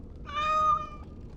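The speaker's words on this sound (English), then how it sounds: "You seem rather attached to that cat, Anders." A cat in the video game Dragon Age: Awakening gives a single clear meow, a drawn-out, moderately quiet call of about a second over a faint background.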